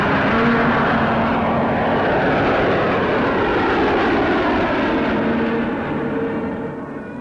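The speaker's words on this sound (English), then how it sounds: "It flew extremely smoothly and responded to controls in the best way that our de Havilland aircraft usually did." A de Havilland aircraft's engine drones loud and steady in flight, a dense continuous roar with a faint tonal hum that eases slightly toward the end, no voices over it.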